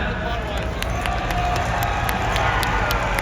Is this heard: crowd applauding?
yes